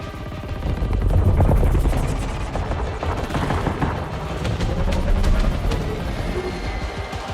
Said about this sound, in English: Right here we can see a Ka-52 Alligator, a Russian coaxial military helicopter, the Russian equivalent to the Apache.